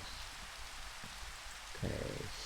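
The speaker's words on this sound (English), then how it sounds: "Yeah, it's still raining." Steady rain falling in the Minecraft video game, a soft continuous hiss of drops throughout, with a brief low thump near the end.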